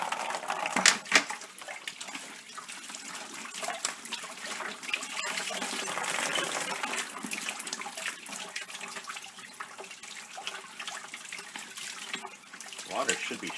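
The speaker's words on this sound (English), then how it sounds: "Guess that's all the water coming out of the house." Water gushing from house plumbing after a water pressure regulator valve is loosened, a steady broadband rush that runs throughout with brief louder spurts near the start and end.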